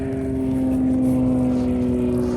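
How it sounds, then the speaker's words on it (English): A propeller airplane drones steadily over a lake while fishing from the shore, a continuous low engine hum with a strong steady tone, moderately loud and unbroken, with no talking. "Every time when I go to talk, there's an airplane."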